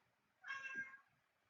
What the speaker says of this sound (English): She is the kind of cat who'll complain, though.